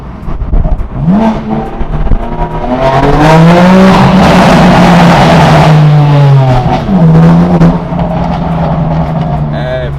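A straight-piped BMW M4 accelerates hard in first gear, its exhaust climbing into a loud raspy rising howl, briefly dropping at a shift and then pulling again, close and dominant throughout.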